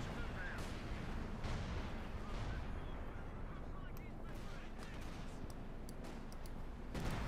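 Artillery fire from 25-pounder guns in the strategy video game Company of Heroes 2, repeated booming shots over a dense rumbling battle din, with voices faintly underneath.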